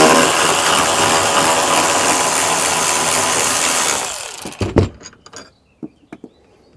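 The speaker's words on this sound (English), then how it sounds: "Using your 10mm socket, take out these stock bolts." A power tool drives a 10mm socket to remove stock bolts on a 2021+ Ford Bronco, whirring steadily for about four seconds before stopping, followed by a few sharp clinks and taps of metal parts.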